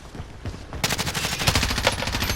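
Rapid automatic gunfire from the Warzone video game rattles loud and continuous after a short lead-in of scattered shots, a dense string of cracking bursts.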